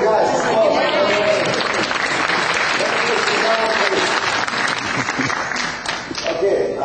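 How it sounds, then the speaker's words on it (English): Room full of business seminar attendees applauds managers standing up, a dense, continuous clapping that runs the whole length with voices mixed in. "Applause, guys."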